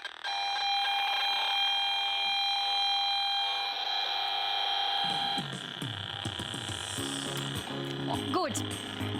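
A Bluetooth speaker sounds steady electronic tones that hold for several seconds, followed by a shorter rising chirp near the end, loud and close with no talking.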